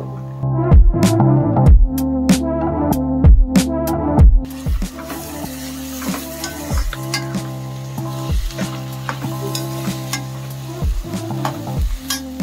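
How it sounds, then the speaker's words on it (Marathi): Tomatoes going into roasted onions in a hot pan for chole, loud spoon knocks against the pan at first, then a steady sizzle with occasional stirring clinks, no voices. "टोमॅटो, कांदा झाला भाजून. आता त्याच्यामध्ये टाकणार टोमॅटो"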